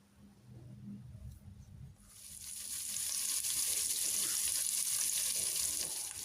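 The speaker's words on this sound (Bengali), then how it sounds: "পেঁয়াজ হালকা ভেজে দিয়ে দেব, কাঁচামরিচ দিয়ে দেব" Onions, green chillies and spices hitting hot oil for winter mixed vegetable khichuri: a few quiet stirring knocks, then a sudden loud sizzle that swells and holds steady.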